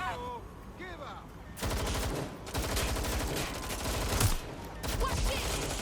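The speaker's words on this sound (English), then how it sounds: "Shots fired!" Gunfire in Watch Dogs Legion comes as dense, loud bursts of rapid automatic shots after a few short game beeps, with no talking over it.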